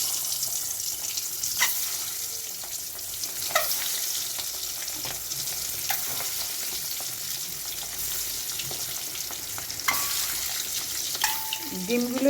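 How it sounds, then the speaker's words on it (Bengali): Eggs fry in a pan with a loud, continuous sizzle and crackle, broken by occasional scrapes and knocks of a utensil, with a brief tap-water sound near the end. "ডিমগুলোকে আমি খুব ভালো করে ভেজে নিচ্ছি, মিনিট 2-3 লাগবে"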